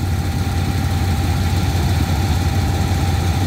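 A diesel locomotive hauling a long freight train of containers rumbles steadily at close range, a loud, continuous low engine drone with vibration and no pauses.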